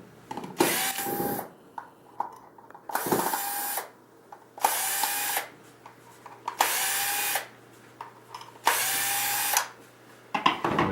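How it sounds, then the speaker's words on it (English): A cordless drill whirs in repeated bursts of about a second each, with pauses and small clicks between, as six screws are backed out of a Topaz valve one after another. "I've attached it to my cordless drill, which makes it an awful lot easier"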